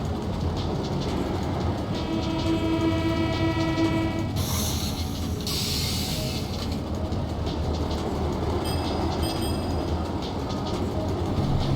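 A subway train in the video game Cities in Motion rumbles steadily, with a long horn tone early on, a burst of hissing brakes, and continuous rolling rail noise.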